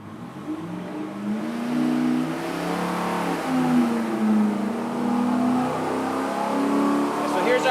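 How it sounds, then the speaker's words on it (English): A '66 Chevy Nova engine on a dyno held at full throttle, its loud, steady roar climbing slowly in pitch through the whole pull, with no pauses. "going to control as we ramp this engine up and give it full throttle."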